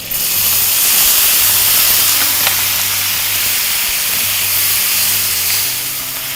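Water hitting a hot pan of toasted vermicelli in mustard oil, giving a loud, steady hiss of steam and spitting sizzle that holds for several seconds with no talking.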